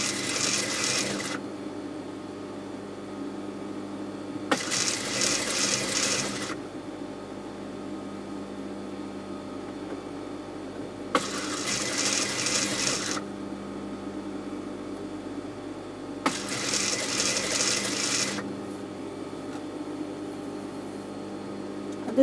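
Sewing machine stitching a garment collar in four separate bursts, each one to two seconds of fast whirring needle rhythm, close and clear, with quiet pauses between them while the fabric is adjusted.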